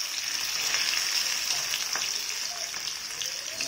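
Pieces of fish fry sizzle steadily in hot oil in a pan, a dense, continuous crackle that stays close and loud throughout, with faint talking beneath it.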